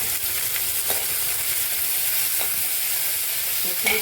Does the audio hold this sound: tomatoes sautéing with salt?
yes